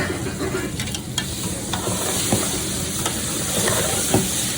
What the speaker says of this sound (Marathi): इथं आपण दीड किलो जे मटण आहे ते चांगलं आता भुजून घ्यायचं